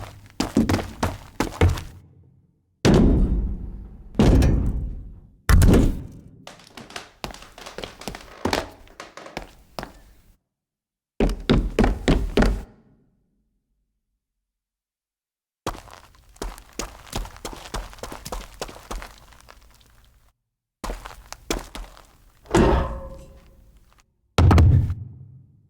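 Foley footsteps and impacts for parkour in the video game Dying Light 2: bursts of close, heavy thuds and taps in rapid clusters, separated by brief silences, with a gritty, scuffing texture.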